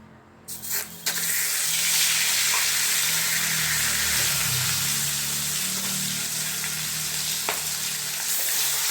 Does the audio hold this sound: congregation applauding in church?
no